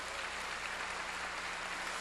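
A church congregation applauds during a sermon, a dense, even wash of clapping that holds steady throughout at a distance, with no speech over it.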